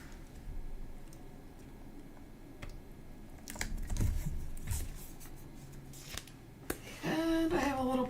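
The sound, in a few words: scissors cutting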